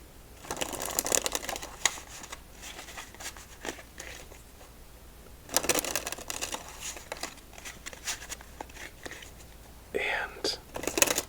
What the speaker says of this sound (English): Let's give it 3 more shuffles just for good measure.